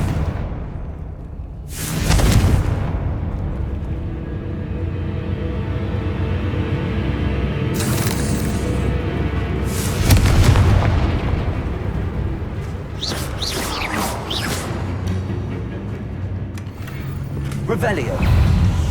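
Confringo blasting spell explosions in the Hogwarts Legacy video game: several heavy booms with long rumbling tails land a few seconds apart amid continuous game noise, and a voice talks over parts of it.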